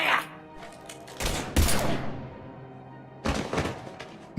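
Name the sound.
gunfire in the video game Mass Effect 3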